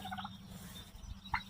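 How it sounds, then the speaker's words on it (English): A farmyard turkey gobbles once, a short burst near the end, over a low background murmur of other fowl such as chickens and roosters. "There's the turkey."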